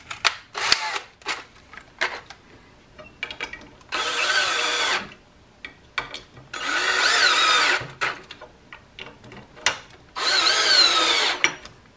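Power drill driving screws into a wooden plug set in a stripped screw hole, three sustained whining bursts separated by short pauses, with clicks and handling knocks in between.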